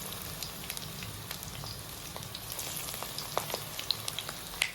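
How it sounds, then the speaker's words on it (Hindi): Taro leaf rolls frying in oil in a kadhai over low heat give a steady soft sizzle with scattered small pops and crackles, close and even throughout, with no talking. "इस तरीके से सारे रोल्स को कढ़ाई में सेट कर लीजिए।"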